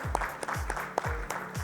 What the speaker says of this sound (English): Let's give our jury and validator a big round of applause.